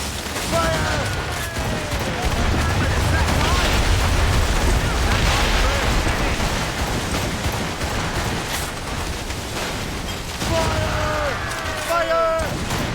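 Cannon volleys boom and crackle through a naval battle in Assassin's Creed Rogue, dense bursts of gunfire layered under shouted crew commands and whistling shots.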